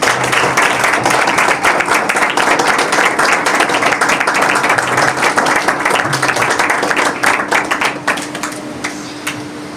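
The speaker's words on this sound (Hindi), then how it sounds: "आपकी भरपूर तालियों में इनको वेलकम करूँ" Loud, sustained applause from a large crowd at a Sunday church service, dense steady clapping that fades slightly toward the end.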